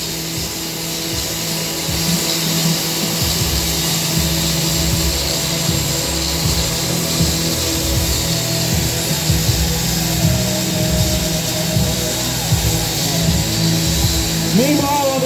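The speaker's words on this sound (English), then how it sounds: "going to soften up the building using circular saws" Circular saws cutting into a building during a firefighter forcible-entry drill at a fire academy graduation show: a loud, continuous rough grinding and whine with rising and falling engine tone, heavy outdoor background noise, no talk.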